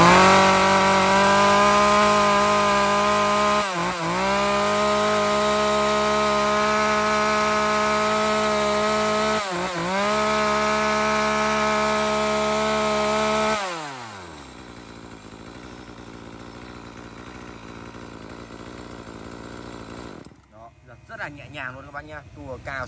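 A used Japanese Shindaiwa chainsaw engine runs at a steady, buzzing idle up close for several seconds, then slows and winds down, leaving a quieter mechanical rattle at the end.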